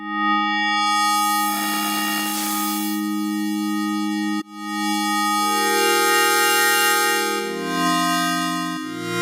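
A GForce Halogen FM synthesizer patch set to brightness plays clean, bell-like sustained tones, close and clear with no voices. The pitch steps down partway through and the timbre shifts to brighter, shimmering layers.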